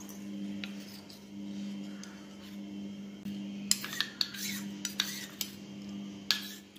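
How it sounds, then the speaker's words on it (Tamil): A spoon stirs custard powder into a little milk in a bowl, scraping and clinking against the sides in quick, irregular strokes over a low steady hum, close and fairly soft. "இந்த எடுத்து வச்ச கஸ்டர்ட் பவுடரில் இந்த பால் கொஞ்சம் எடுத்து வச்சுருக்கோம், அதை வந்து சேர்த்து கட்டி இல்லாமல் கரைச்சிக்கலாம்"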